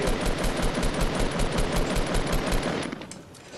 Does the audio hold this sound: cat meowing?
no